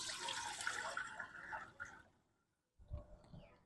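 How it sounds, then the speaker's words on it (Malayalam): Water poured into an idli steamer pot on the stove, a close splashing rush for about two seconds that fades out, followed after a pause by a faint knock and trickle. "വെള്ളം ഒഴിക്കാം."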